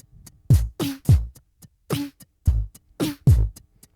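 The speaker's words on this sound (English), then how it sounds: "So you can hear it's punchy in the low end, and it's got a nice impactful snare, and you can hear those hi-hats ticking away." A beatboxed drum beat run through an RC-505 MK2 looper with reverb effects, punchy low kicks, sharp snares and ticking hi-hats in a steady, sparse groove, with no talking.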